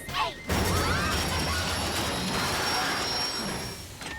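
A cartoon train pulls into the Crystal Empire station in a My Little Pony episode, with a brief clatter and then a sustained loud mechanical hiss and rumble of the arriving cars that eases off toward the end.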